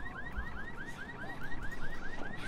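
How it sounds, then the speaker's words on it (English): A car alarm triggered in a video game wails with a steady run of rising, warbling siren sweeps, repeating about every quarter second, loud and alone with no talk over it. "Aye! Caramba, I hit the car alarm."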